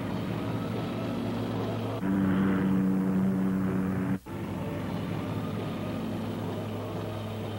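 A British Sopwith Camel biplane from World War I flies past with a steady, buzzing propeller-engine drone that holds at a constant loudness throughout, with a brief dip in the middle.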